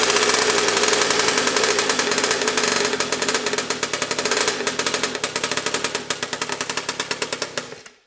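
A small carbureted engine runs loud and close with a rapid, rough, popping firing rhythm that holds steady for several seconds and then sputters out and stops.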